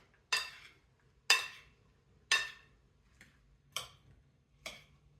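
Five sharp clinking strikes of a utensil against a bowl while avocado and tomato salad is mixed, spaced about a second apart with quick decays and near-silence between them.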